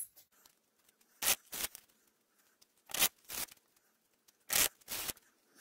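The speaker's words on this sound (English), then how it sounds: "So let's give them some shuffles." Deck of oracle cards being shuffled by hand, three pairs of crisp riffling bursts with quiet pauses between them, close and alone.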